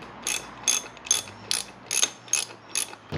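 A ratchet wrench drives bolts into the clutch cover of a Honda XR650, making seven or eight loud, close, evenly spaced clicking bursts with no talk.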